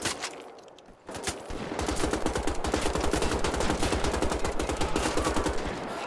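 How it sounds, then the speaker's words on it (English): Rapid bursts of gunfire from a weapon in the Wolfenstein video game, loud and close, repeating in quick clustered volleys after a brief opening sound, with no talk over them. "This gun, he's got burst fire"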